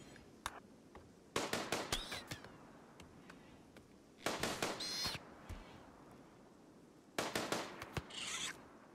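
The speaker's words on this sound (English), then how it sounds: "let's have him quickly shoot that down before we start constructing" Three bursts of gunfire from a colonist shooting down a Mega Scarab in the RimWorld video game, with sharp cracks and a brief rattle after each, set apart by quiet stretches.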